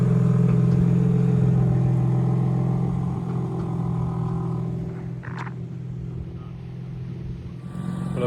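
Green 2025 BMW M4 CS, rear-wheel drive and tuned, driving at night, with a steady deep engine drone and low road rumble that eases slightly, heard from inside the car with no talking.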